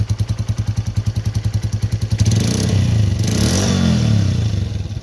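A Lifan 125 cruiser motorcycle engine, started from cold with no choke, idles with a steady, loud, rhythmic chug. About halfway through it swells into a fuller, rougher rumble, close up with no talk.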